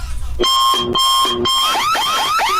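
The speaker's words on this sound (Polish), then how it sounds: "Alarm." A loud electronic alarm blares in repeated tonal bursts, then shifts into a rapid warbling, siren-like pattern.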